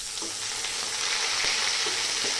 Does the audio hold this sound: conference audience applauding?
no